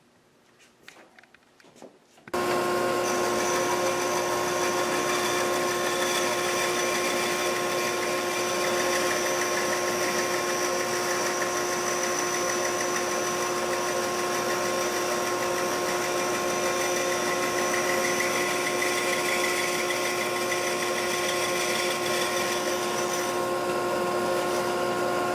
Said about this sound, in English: we're ready to cut off this thin section of wood